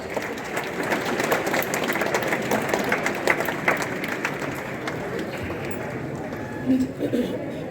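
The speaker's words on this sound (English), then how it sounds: "Let's give them a round of applause for all of them." Audience applause at a school Goa Liberation Day celebration, a continuous wash of clapping that stays fairly even for several seconds, with crowd voices mixed in and fading near the end.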